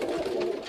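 Male Pakistani pigeons cooing in a continuous low, throaty murmur, close and steady for under a second, with no speech over it.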